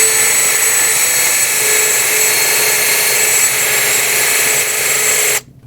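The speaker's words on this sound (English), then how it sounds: "I'm actually just going to go in with a wire wheel on a drill to speed up the process" A wire wheel spinning on a power drill to clean front brake parts on a 2020s Toyota Corolla, a loud steady high-pitched whirring grind held close for several seconds before cutting off abruptly.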